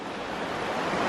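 A river rushes beside a mountain trail on the Appalachian Trail, a loud, continuous broadband roar that swells slightly, mixed with some wind buffeting the microphone.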